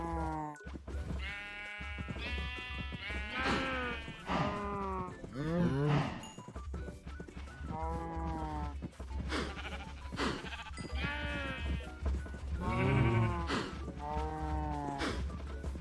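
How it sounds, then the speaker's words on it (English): Sheep in the video game Minecraft bleat again and again over a steady low background hum, with several wavering calls spread across the stretch and no talking. "The sheep."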